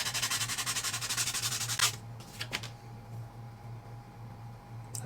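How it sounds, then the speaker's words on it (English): Sandpaper rubbed back and forth to clear small burrs from a plastic part for a scale TRX4M crawler, a close rapid rasping scrub that stops partway, followed by a few light handling clicks. "Just grab some sandpaper and"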